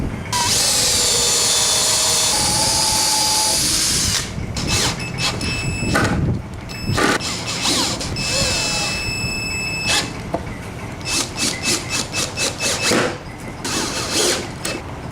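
A power drill drives screws into the bottoms of cedar boxes in a woodshop, opening with a loud sustained whine and then breaking into short, repeated bursts of motor noise, close up.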